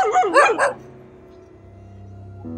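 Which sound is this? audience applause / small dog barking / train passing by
small dog barking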